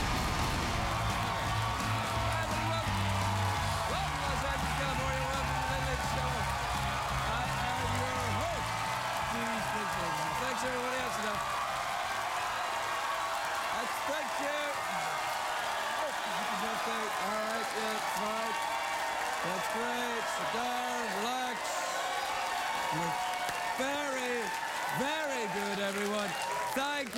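Studio audience applause and cheering on a late-night talk show, a loud, continuous wash of clapping that fills the whole stretch, with a voice talking through the middle and later part.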